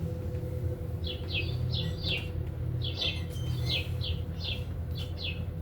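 Sparrow chirping during a stage play, with a series of short, bright tweets repeating in quick pairs over a steady hum of room noise.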